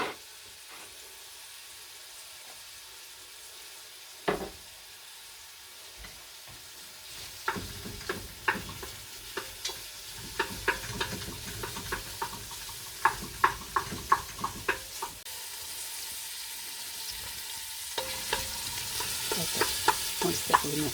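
Bacon lardons frying in a pot for a cabbage potée, soft sizzling under scattered clinks and stirring knocks from a utensil, quiet and close.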